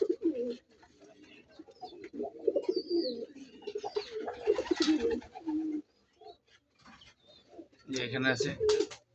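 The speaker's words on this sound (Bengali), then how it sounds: "ডিম দেওয়া বসা গোল্লা কবুতর, পাক সাদা, লেঞ্জা সাদা, মাথা সাদা।" Domestic pigeons, including a white-headed, white-tailed brooding bird on eggs, coo in soft, repeated low bursts close by in a quiet loft, with a person talking intermittently between the calls.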